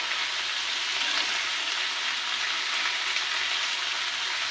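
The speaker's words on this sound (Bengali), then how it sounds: "এই পেঁয়াজটা একটু লাল লাল করে ভাজা হবে।" Chopped onion fries in hot oil in a pan, giving a steady, bright sizzle that holds evenly throughout with no talk over it.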